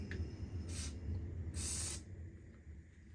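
WD-40 sprayed from a can onto buffalo horn: two short, quiet hissing bursts, the second one longer, heard close and without speech over a low background hum.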